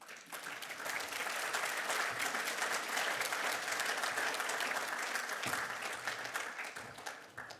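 Enthusiastic crowd at a public speaking event against the Voice to Parliament, applauding loudly and steadily throughout, a dense wash of clapping close and sustained.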